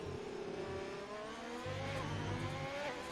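Racing car engines roar and rev in a racing video game as one car overtakes another on the inside, a steady loud whine with shifting pitch throughout.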